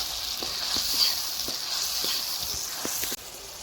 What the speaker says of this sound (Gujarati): प्याज डाल दी છે हमने ટમેટાનો પેસ્ટ નાખી દીધો છે અને હવે આપણે કરી દઈશું એને મિક્સ